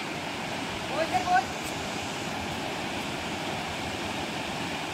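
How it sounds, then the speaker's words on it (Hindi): Steady broadband rush of the Bhukundhar rainbow waterfall pouring down from above, a continuous roar heard up close with brief faint sounds near the start. "पानी का झरना गिर रहा है ऊपर से"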